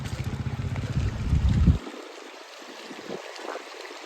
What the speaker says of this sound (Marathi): मस्त पाण्याचा आवाज सगळा